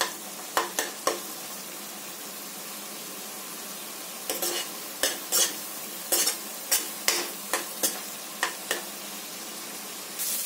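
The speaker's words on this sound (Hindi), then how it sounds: "मसाला मेरा बहुत अच्छे से फ्राई हो चुका है" Masala for a halwai-style suran sabji frying in oil, a steady low sizzle broken by a regular series of sharp spatula scrapes and taps against the pan.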